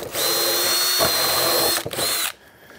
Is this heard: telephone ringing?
no